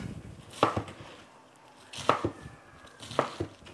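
A knife chops cabbage into square pieces on a cutting board, three quick pairs of crisp thuds spaced about a second and a half apart, close and clear with no talk.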